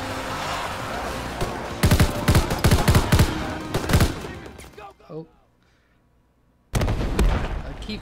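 Rapid bursts of gunfire from Call of Duty: WWII, with dense volleys and sharp single shots in a wartime battle, dropping briefly to near silence before firing resumes loudly.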